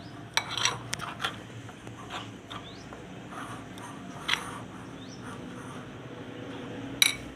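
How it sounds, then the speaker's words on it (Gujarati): A spoon stirs green garlic pudla batter mix with red chili, coriander and oil in a bowl, making quick metallic clinks and scrapes early, then quieter intermittent scraping and a final sharp clink. "બધું મિક્સ કરી લેવું।"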